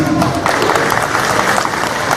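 Dense, steady applause from a crowd at the opening of an outdoor exhibition in Bistra, Macedonia; many hands clapping together at close range, filling the whole moment without pause.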